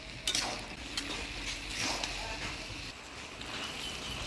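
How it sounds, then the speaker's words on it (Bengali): A fish head and Malabar spinach are stirred in a pan with a spatula, giving scattered scraping and clinking over a soft background hiss, moderately quiet, with someone speaking at points. "মাছের মুড়া দিয়ে ভালো করে নাড়াচাড়া করে নিব"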